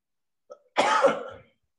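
A single rough cough, close and fairly loud, lasting under a second, preceded by a faint short catch of breath and followed by silence.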